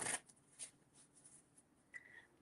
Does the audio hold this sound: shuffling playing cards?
yes